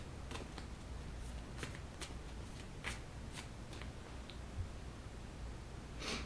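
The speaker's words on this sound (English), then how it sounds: "let's keep shuffling here" Playing cards shuffled repeatedly in a quiet room, a string of crisp riffling bursts spaced irregularly across the stretch, close and fairly soft with no talking.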